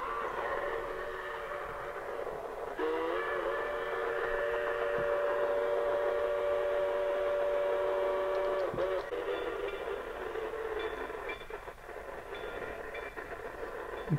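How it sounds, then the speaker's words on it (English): A garden railroad model train's long steady whistle tone sounds for several seconds over rolling train rumble, followed by high metallic squeals and clicks from the track as it rounds a curve. "you hear the squealing of the rails when it goes around the curve, and it has the whistles"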